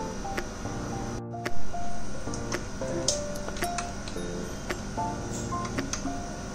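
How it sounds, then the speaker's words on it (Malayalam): Mustard seeds crackle and pop in coconut oil in a clay pot, sharp scattered clicks heard close beneath background music. "കടുക് പൊട്ടി തുടങ്ങുമ്പോൾ നമുക്ക് ഉള്ളി അതിലേക്ക് ഇട്ട് കൊടുക്കാം."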